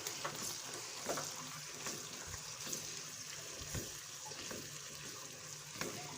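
Minced meat with peas frying in a pan with garlic and ginger, a faint steady sizzle under irregular scraping and stirring clicks from a utensil, no voices.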